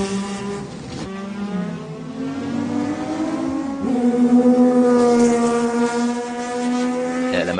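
The Kudzu Mazda race car pulls out of the pits at the 1995 Le Mans 24 Hours, its engine loud and close, revving with pitch climbing, dropping at a gear change and rising again.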